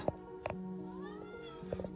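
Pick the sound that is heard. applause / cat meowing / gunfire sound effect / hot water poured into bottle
cat meowing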